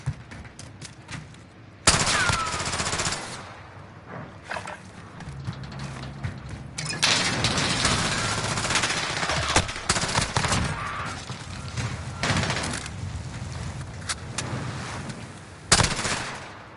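A light machine gun in a video game firing long rapid bursts after a mechanical click, loud and close with sharp cracks throughout, no talking over it.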